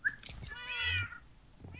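Cats meow in a Minecraft Lucky Blocks game, one clear, close high-pitched meow followed by softer mewing, with faint game sounds and no talk.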